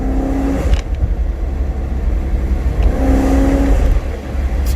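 A BMW E92 M3 with an X-pipe exhaust drones loudly and steadily as it passes, surging with a rising rev in the middle before settling, with road and motor noise throughout.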